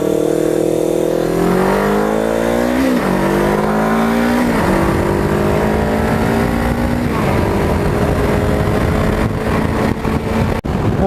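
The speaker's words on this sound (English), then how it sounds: "this is how you ride a motorcycle, I think" A motorcycle engine roars close by while riding in traffic, climbing in pitch through several gear shifts over steady wind rush.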